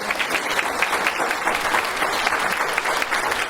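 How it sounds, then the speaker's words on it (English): An audience at a food bank conference claps together in a steady, dense round of applause that stays loud and even throughout, with no voices standing out. "let's give them a round of applause"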